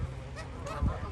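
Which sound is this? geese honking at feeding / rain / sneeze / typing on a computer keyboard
geese honking at feeding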